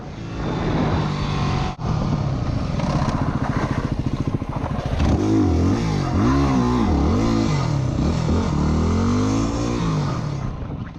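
A dirt bike revving hard during wheelies on a trail near home, a loud close engine whine rising and falling in repeated throttle surges, with no talking.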